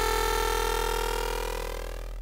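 A foghorn-like Serum saw wave shaped by phase distortion from a second oscillator, for melodic drum and bass, sounds as one sustained buzzy, harmonically rich note that slowly fades, alone without any voice.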